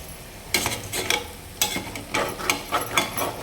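A spatula stirs a raw plantain stir-fry in a steel pan. Repeated scraping strokes come in an irregular rhythm, close and clear, with a faint sizzle underneath.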